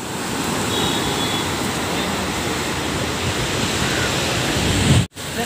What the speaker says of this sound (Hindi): और ये है केरला कोईकूड का बीच